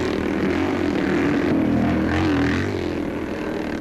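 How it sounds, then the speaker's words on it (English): Motorcycles in a hillside scrambling race run at wide-open throttle, making a loud continuous engine drone that holds steady throughout with no voices. "throttles are kept pretty wide open"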